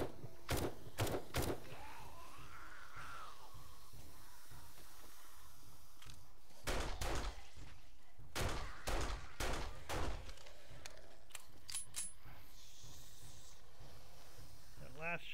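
Separate sharp gunshots in the survival game 7 Days to Die: a quick pair, then a cluster of several cracks spaced apart, and a few fainter shots later, over a quiet background with some talk in between.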